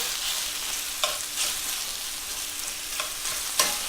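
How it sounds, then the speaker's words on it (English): Steady, quiet sizzling from a pot of sausage and white bean stew, with a few soft scraping stirs breaking through now and then. "I'll give this a stir"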